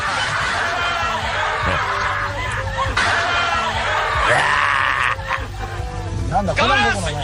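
Loud, shrill screams and yelps pierce a busy, noisy game-show obstacle course scene on Takeshi's Castle, with voices shouting over a steady hum.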